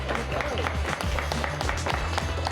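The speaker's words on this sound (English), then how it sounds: "Round of applause for the champs" A quiz bowl crowd applauds the state champions of an Arkansas high school competition; brief clapping sits over a loud, booming low rumble that partly masks the claps.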